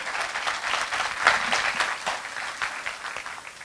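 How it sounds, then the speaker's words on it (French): An audience claps for musicians after an evening performance, with dense, continuous applause that swells slightly in the middle and then eases a little. "On peut les applaudir."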